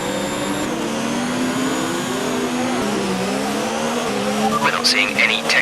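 Formula One race car engine revving and shifting on a practice start in the F1 2019 racing game, a loud steady whine with rising pitch, ending in a brief burst of tire squeal.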